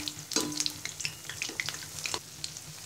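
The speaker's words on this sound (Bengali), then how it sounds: "এবার গরম তেলের মধ্যে দিয়ে দিব। এবার এপিট ওপিট ব্রাউন কালার করে ভেজে নিব।" Egg pantua pitha, a Bengali sweet, fries in hot oil with a soft, close crackle and scattered pops and bubbling, fairly quiet.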